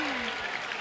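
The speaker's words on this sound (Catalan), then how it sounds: "Pare, un aplaudiment al pare d'Adina." A quiz-show audience gives a brief burst of applause for a contestant's father, a short wash of clapping heard only for a moment.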